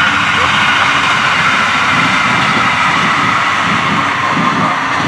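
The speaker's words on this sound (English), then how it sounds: "It's the pink train" A train rolls past with a loud, steady roar and rumble that holds evenly throughout without letting up.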